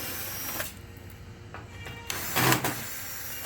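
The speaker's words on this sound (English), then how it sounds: "it's a lot faster to use a power screwdriver like we're using" A power screwdriver backing screws out of the rear cover of a Toshiba copier, giving short whirring bursts with clicks and handling noise in between, close and fairly loud, with no talking.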